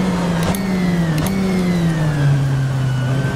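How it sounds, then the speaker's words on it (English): A BMW M8 GTE race car in rFactor 2 at Sepang drives in wet conditions, its engine holding a steady droning tone with slight pitch dips as the traction control works, loud and continuous. "You can hear the traction control just grinding away in the rear of the car."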